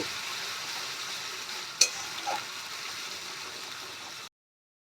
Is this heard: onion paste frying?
yes